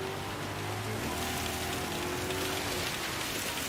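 Steady rain falls on surfaces outside a window, a dense, even hiss that holds at constant loudness throughout, with no talking.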